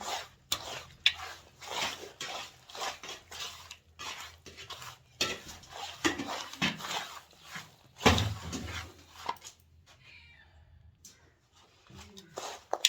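Desi ghee being mixed into a rice barfi mixture in a pot, with repeated loud scraping and clinking of a utensil against the metal pot in irregular bursts, briefly pausing near the end, under occasional talk.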